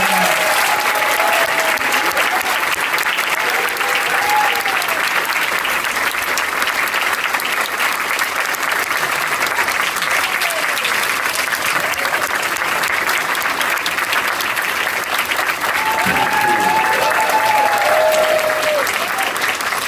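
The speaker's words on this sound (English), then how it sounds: "You're keeping the applause going." A theatre crowd at the Clerks 3 premiere keeps up long, loud, sustained applause, a thick unbroken wash of clapping, with a voice breaking in now and then near the start and end.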